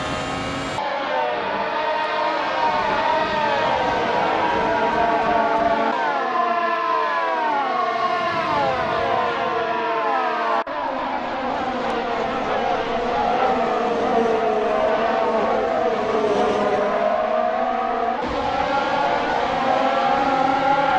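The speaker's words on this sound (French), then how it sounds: "je vais vous laisser profiter un petit peu du son de ces bolides" Formula 1 car engines in the F1 2018 video game, high-revving whines rising and falling through gear shifts as cars pass, loud and continuous with no talk.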